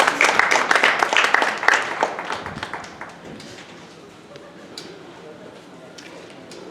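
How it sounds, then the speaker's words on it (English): Brief audience clapping at the Santa Paula Junior Livestock Show ring, a burst of hands that thins out after a few seconds into a quieter room with faint scattered noises. "Let's give him a round of applause for joining us today."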